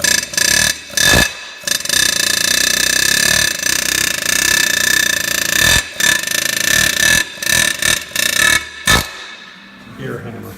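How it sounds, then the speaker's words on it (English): A pneumatic air hammer fitted with a chisel, used to knock loose bolts during a brake job on a Ferret, fires in loud rattling bursts separated by short pauses across the whole stretch. "Air hammer."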